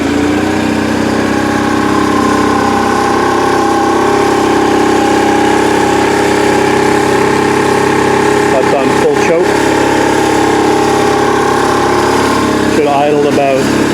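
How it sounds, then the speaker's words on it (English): Engine idling steadily and loudly without the choke, a constant close mechanical drone throughout with some brief rattling noises near the end, and no clear talking over it. "Should idle about 1100 RPM without the choke."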